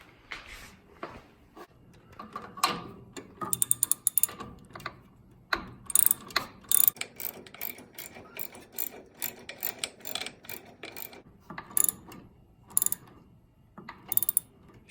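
A ratchet tightens the brake light switch on a 1969 Jeep CJ-5, giving close, crisp clicking bursts in irregular runs separated by short pauses and clanks of the tool, with no talking.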